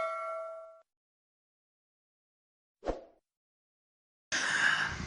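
A bright notification bell chime rings out, followed after silence by a short low plop and then a burst of noisy whooshing clatter.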